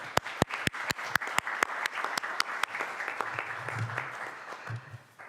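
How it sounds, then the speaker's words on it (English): Audience applause for a provisional chair at a high-level cooperation meeting: about a dozen loud, sharp claps open the clip, then blur into steadier, denser clapping from a large room, with faint low murmur underneath. "I would like to ask for a round of applause for our provisional chair"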